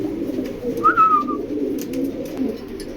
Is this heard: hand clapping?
no